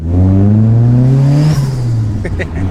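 Old turbocharged Mitsubishi Lancer tuned to shoot flames, engine revving hard and close with a rising tone, then dropping off into a rougher idle with crackles near the end.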